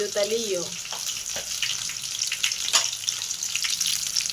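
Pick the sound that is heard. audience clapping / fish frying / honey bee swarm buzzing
fish frying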